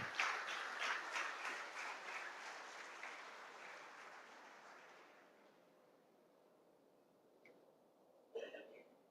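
Audience applauding to welcome a finance minister at an evening gathering in Mangaluru, fairly quiet steady clapping that slowly fades to near silence before a brief voice and rustle.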